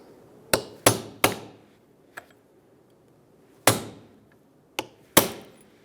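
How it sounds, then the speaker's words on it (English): Sharp metallic hammer strikes on a punch, removing a sun visor bracket clip on a 1997-2006 Jeep Wrangler, ring out in irregular bursts: a quick trio, a lone tap, then three more hits, close and crisp against quiet. "I'm going to get a punch and a hammer."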